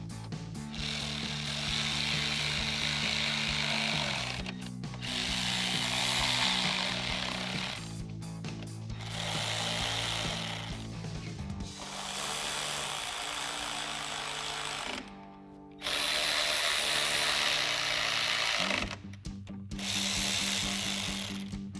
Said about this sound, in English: Now we'll use our 8 millimeter socket to tighten down the ones here in the center.